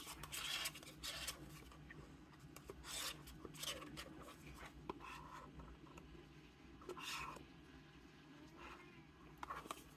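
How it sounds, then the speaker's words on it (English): A spatula scrapes a resin mixture out of a mixing container for steampunk holographic jigsaw charms, giving quiet, irregular rasping strokes up close with short pauses between them. "Scrape it out."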